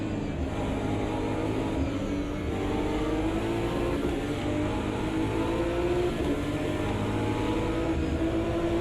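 GT3 race cars accelerate on the Nordschleife in Automobilista 2, engines droning loud and steady with rising pitch as they gain speed, several cars overlapping close together.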